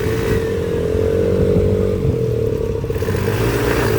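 A motorcycle engine revs and runs steadily up close on a ride through Struga, with a continuous throaty drone and a slight rise and fall in pitch. No one speaks.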